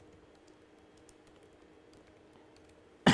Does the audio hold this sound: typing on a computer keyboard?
yes